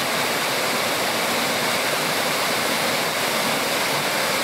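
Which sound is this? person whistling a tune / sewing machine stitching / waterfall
waterfall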